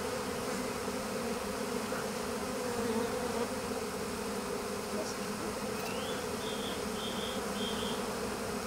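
A honeybee swarm settled on a shrub buzzes in a steady, dense drone throughout, with a few individual bees passing closer and rising in pitch near the end.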